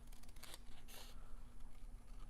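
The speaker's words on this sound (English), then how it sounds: "But just by turning that paper and the pressure from the scissors, it just cuts it." Scissors snip through paper while a handmade card is cut, two short crisp cuts close up and quiet, with no talking.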